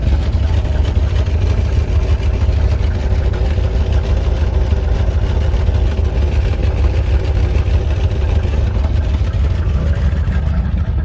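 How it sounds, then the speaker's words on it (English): A 1980 Camaro Z28 engine with blown-out turbos on both sides idles steadily through its factory exhaust with a low, rumbling note, constant and close throughout, with no talking. "This is a factory exhaust."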